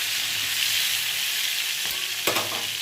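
Pointed gourd (potol) frying in hot oil makes a dense, continuous sizzle close by, with a sharp spatter and crackle near the end and no talking.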